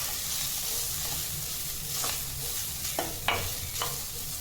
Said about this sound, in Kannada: ಹಾಕೊಂಡ್ಬಿಟ್ಟು ಇದನ್ನು ಚೆನ್ನಾಗಿ ನಾವು ಫ್ರೈ ಮಾಡ್ತೀವಿ